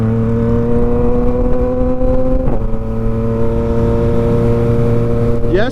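Tuned Yamaha MT-09 motorcycle accelerating to overtake, heard from the rider's seat in cold weather, with a steady loud engine drone whose pitch holds and then climbs sharply at the end, wind rushing throughout.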